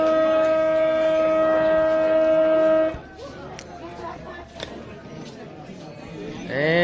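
The halftime siren at an Adelaide Footy League Australian football match between Payneham and Sacred Heart sounds a loud, steady wail for about three seconds, then gives way to crowd chatter and general ground noise.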